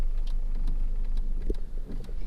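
Low rumbling idle of a lifted OBS Ford truck's engine with an exhaust leak, a steady close drone with faint irregular puffs and ticks on top, and no voices.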